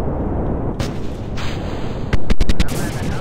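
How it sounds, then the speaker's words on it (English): Rocket part exploding in Kerbal Space Program, a dull rumbling boom ending in a short cluster of sharp cracking bursts, loud over steady background roar, with no talk. "Oh, one of those exploded"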